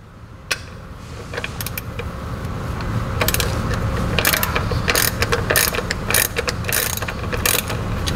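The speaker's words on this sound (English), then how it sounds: "We'll begin by removing the drain plug and draining the oil." A ratchet wrench loosens the drain plug on a Powerglide transmission pan, a steady run of rapid close clicking bursts over a low mechanical hum, with no talking.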